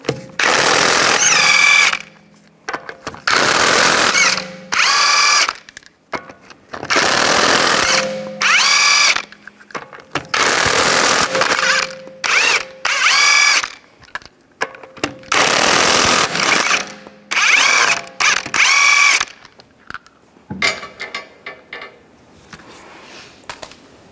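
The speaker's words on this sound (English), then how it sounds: "use a 19mm socket, take the lug nuts off" Power impact tool with a 19mm socket spinning lug nuts off a 2011-2019 Ford Explorer wheel: loud, close rattling bursts of one to two seconds, repeated about eight times with short pauses between.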